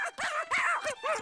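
A cartoon dog from a Chilly Willy episode gives four quick, yelping barks in a bouncy rhythm, loud and close with no talking over them.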